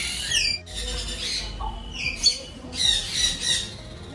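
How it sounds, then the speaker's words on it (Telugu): Blue-and-gold macaws in a pet shop give harsh, loud squawks in several bursts, close by, with shop noise between calls. "ఇవి వచ్చేసరికి బ్లూ గోల్డ్ మకావ్స్ అండి"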